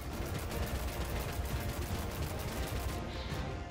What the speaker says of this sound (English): we get the automated turrets trying to hit the guy as well